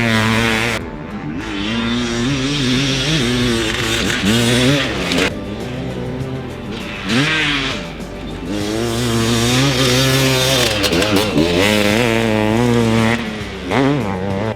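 A 500cc two-stroke motocross bike engine runs loud and close, its buzzing, raspy note rising and falling through repeated throttle blips and revs with no speech over it.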